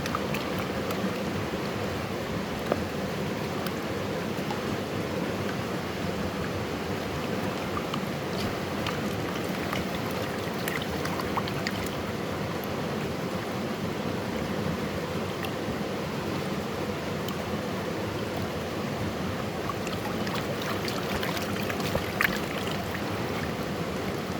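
A gold pan is worked in a slow creek pool, giving gentle, soft water sloshing over a constant low babble of the stream, quiet and close throughout.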